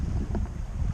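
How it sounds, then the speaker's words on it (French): Wind on a sailboat racing near the Île de Ré bridge in the evening, a steady close rumbling buffet against the microphone with faint water wash and no talk. "Il y a enfin du vent."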